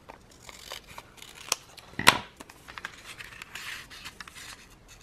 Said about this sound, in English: I'm just gonna cut this off.